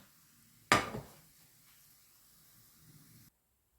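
A sudden sizzling hiss erupts as thin crepe batter hits a hot frying pan, then settles into a faint, quiet fry before cutting off.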